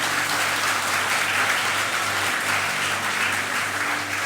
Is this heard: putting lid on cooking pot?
no